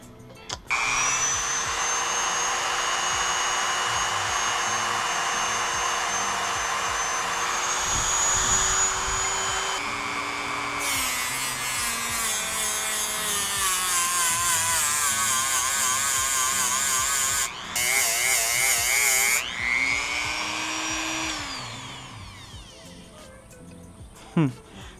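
A power tool with a polishing wheel buffs the supercharger of a 2003 Ford Lightning SVT, giving a loud, steady, high-pitched whine that shifts in pitch as the load changes. It runs almost continuously, with short interruptions, and winds down near the end.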